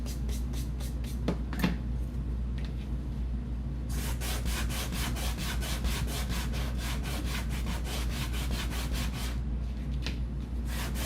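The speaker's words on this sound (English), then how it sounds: "I'm using a pretty heavy grit sandpaper." Steady rasping strokes of coarse 80-grit sandpaper rubbing a craft piece, close and continuous over a low background hum, with rhythmic back-and-forth passes growing faster in the second half.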